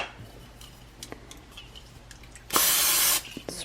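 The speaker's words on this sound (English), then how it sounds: "spray a little bit, shake them around" Cooking oil spray misted over sweet potatoes, one loud steady hissing burst of about half a second, preceded by faint kitchen clinks and handling noises.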